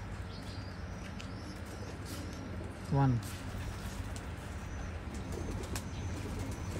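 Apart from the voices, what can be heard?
Rampuri pigeons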